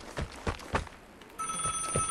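Telephone ringing inside a crane operator's cabin in the video game Vigor, a steady electronic ring with repeated pulses in the latter half, over footsteps and game ambience.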